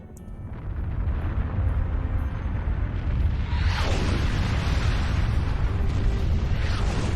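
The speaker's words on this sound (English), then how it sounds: "I have established a link to the charges on the sphere. Detonate!" Detonated charges on a sphere in a Star Trek Klingon video game go off as a loud, sustained rumbling explosion with roaring bursts and debris whooshes, heavy and close, with no talking.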